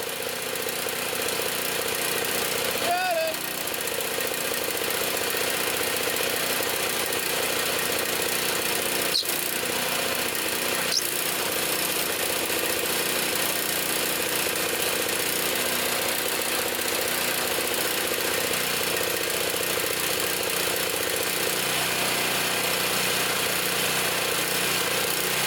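A Toro Power Clear 621 E snow thrower with a 163cc engine idles steadily with the choke on, a continuous even hum that runs unbroken throughout, with a couple of faint clicks.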